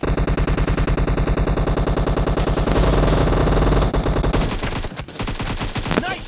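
Rapid automatic gunfire rattles loudly in a shooting video game, long unbroken bursts of close shots, then a few more scattered bursts near the end.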